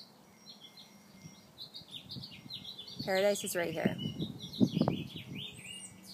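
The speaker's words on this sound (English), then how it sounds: "There are birds chirping right now." Small birds chirp and tweet outdoors in scattered bursts, faint to moderate in the background, with a person speaking briefly over them partway through.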